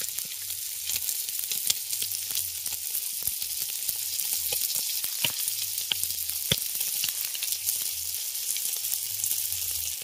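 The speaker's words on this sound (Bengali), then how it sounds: "এদিকে মাছগুলো আমাদের ভাজা হয়ে গেছে, উল্টে দেবো" Small mourala fish fry in hot oil in a pan for a village-style curry, a steady crackling sizzle with sharp pops throughout and no talking.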